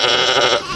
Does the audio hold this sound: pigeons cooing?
no